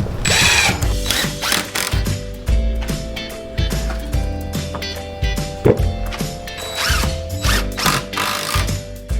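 A power drill drives screws into pallet wood for a bench in repeated short whirring bursts, close and loud, each ending in a strained grind as the screw seats.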